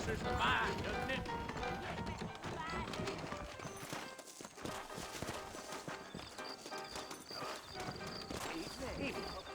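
Saddled horses in Red Dead Redemption, with hooves clip-clopping steadily at close range and a brief whinny near the start, all beneath ongoing conversation and ambient game sound.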